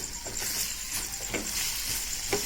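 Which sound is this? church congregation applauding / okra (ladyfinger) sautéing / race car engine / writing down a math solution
okra (ladyfinger) sautéing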